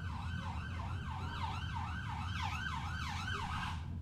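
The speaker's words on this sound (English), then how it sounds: "Police car." A police car siren wails in a fast repeating up-and-down pattern, distant and fairly faint over a steady low rumble near an airport runway, with no voices.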